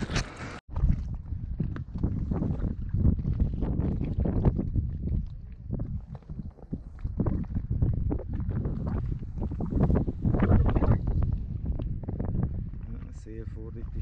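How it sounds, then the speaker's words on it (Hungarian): Strong wind gusts buffet a kayak on a choppy lake, with rough, rumbling microphone wind noise and lapping water heard under someone talking. "a szél is onnan fúj, és fújja a hullámokat errefele"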